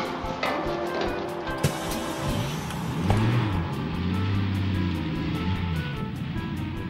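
A bus drives along, its engine humming steadily with slow rising and falling tones and a few light knocks, moderately close and alone with no one talking.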